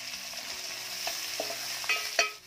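Finely chopped onion sizzling with browned garlic in a pan for methi bhaji, a soft steady frying hiss broken by a few spatula scrapes and clinks, close and fairly quiet with no voices.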